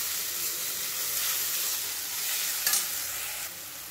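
Poha with salt being sautéed in a hot pan, giving a continuous bright sizzle with light stirring scrapes and one brief rattle near the end.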